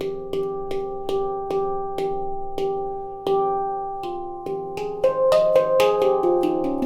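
Handpan struck on the edge of its dimples with a fingertip, about a dozen clear metallic ringing notes in a steady rhythm, each tone sustaining and overlapping the next, close and alone.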